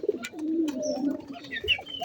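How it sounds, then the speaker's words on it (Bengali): Pigeons coo steadily in their enclosure, a close, continuous low warble with a few higher chirps and rustles layered over it; no one speaks. "এই যে আমার কবুতরগুলো দেখতেই পাচ্ছেন।"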